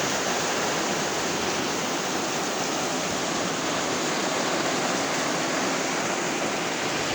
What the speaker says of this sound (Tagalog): Katago na kami sa loob dahil sa lakas ng hangin.